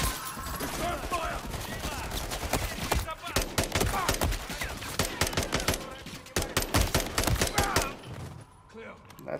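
Rapid bursts of automatic gunfire in Call of Duty: Modern Warfare 3 during a firefight with police, loud and dense with crackling shots and brief pauses, a few louder single cracks near the end.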